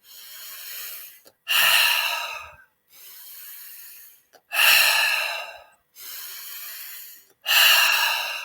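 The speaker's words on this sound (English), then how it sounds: "Inhale through the nose, exhale through the mouth." Slow breathing exercise with three cycles of long, soft airy inhales through the nose, each followed by a louder, fuller exhale through the mouth. The breaths are close and steady with brief silent gaps between them.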